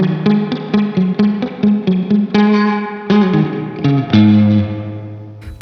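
Guitar strummed and picked through a Fjord Fuzz Fjær reverb pedal set to springy reverb, with a wet, reverberant tail, chords ringing out and sustaining with a washy, echoing shimmer.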